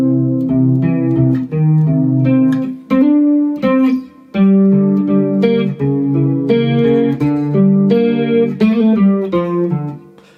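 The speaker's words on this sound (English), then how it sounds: "I've got a clean sound for the intro, a little bit of chorus as well." An electric guitar plays the intro of a song on a clean tone with a little chorus, as a run of picked single notes and short phrases. Close and alone, with brief gaps, no voice.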